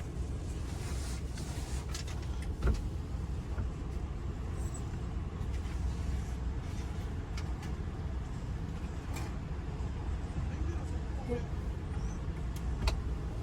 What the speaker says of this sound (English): We're going inside the car wash.